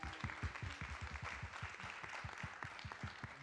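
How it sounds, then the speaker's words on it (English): An audience applauds at a talk on faith and genomic research, with steady, dense clapping and rhythmic thumps running for the whole stretch and no voice over it. "Let's give Gideon a round of applause."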